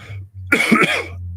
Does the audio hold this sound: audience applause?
no